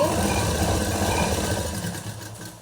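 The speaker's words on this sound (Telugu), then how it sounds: "ఇలా స్లోగా నీట్గా స్టిచ్ అయితే వేసేసుకోండి" A sewing machine stitching polish work onto a saree runs in a steady, close, continuous mechanical whir that fades slightly toward the end.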